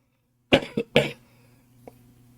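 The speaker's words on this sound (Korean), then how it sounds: "맨날 기침해가지고 죄송합니다" Two quick coughs followed by a third harsher one, close and loud, then a faint throat sound trailing off against a low steady hum.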